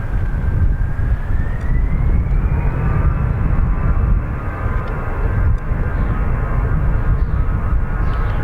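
An Aer Lingus airliner departs Dublin Airport for Bilbao, its engines a loud sustained roar with a rising whine that holds steady throughout, heard up close.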